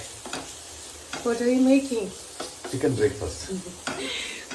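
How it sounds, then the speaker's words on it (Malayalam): Chicken stir-fried in a pan for breakfast, sizzling steadily while a utensil stirs and scrapes through it in short bursts, with a voice speaking briefly over the cooking. "സ്റ്റിർ ഫ്രൈ പോലെ ചെയ്തത് കേട്ടോ"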